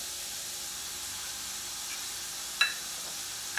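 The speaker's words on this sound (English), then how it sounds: "while my bacon is frying" Bacon frying in a pan gives a steady, soft sizzle and hiss throughout, with a faint click near the end.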